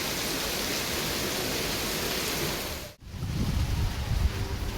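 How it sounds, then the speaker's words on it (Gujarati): Rainwater gushes and roars from an overflowing drain during a steady monsoon downpour, a continuous broadband rush close by that cuts out briefly, then returns with heavier low splashing. "તો મિત્રો ગટર ઉભરાઈ ગઈ છે."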